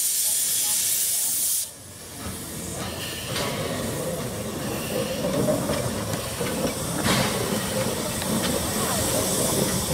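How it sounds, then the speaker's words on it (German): Museum steam locomotive No. 20 of the Achertal railway vents steam while being shut down, a loud continuous hiss that cuts out briefly near the start and then resumes, with some rumbling beneath. "Die Fahrt ist zwar zu Ende, aber die Lok Nummer 20 wird noch abgerüstet."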